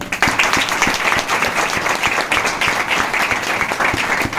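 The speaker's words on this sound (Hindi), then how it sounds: "दिखाने वाले उनके लिए ताली बजा लें।" An audience claps for demonstrators, a loud, close round of applause with distinct individual claps audible through the steady crowd texture.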